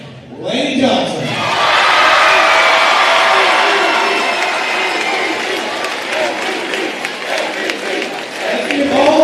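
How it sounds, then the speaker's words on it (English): A large crowd at a district girls' basketball championship breaks into loud, sustained applause and cheering that swells quickly and holds steady for several seconds, with a voice briefly audible at the start. "Let's give all of these girls a large round of applause."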